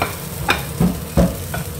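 A teriyaki pollock fillet fries on one side in a pan, a loud close sizzle broken by several scraping, stirring strokes of a utensil against the pan.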